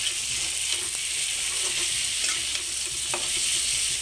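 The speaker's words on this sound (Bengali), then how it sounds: "খুব সুন্দর করে সবজিটাকে কষিয়ে নিয়েছি" Taro (kochu) vegetable frying in a little oil in a pan, a steady close sizzle with scattered scraping clicks of a spatula stirring, no voices.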